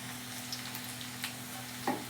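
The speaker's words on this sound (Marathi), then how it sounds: "आता मिरच्या भाजून घ्यायच्या." Green chillies roast in a pan with a low, steady sizzle and an underlying hum, a few faint stirring scrapes and a small clink near the end.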